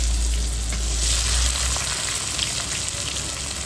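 Onion and tomato frying together in a pan for a spicy prawn and potato curry, giving a steady, close, continuous sizzle with no talk over it.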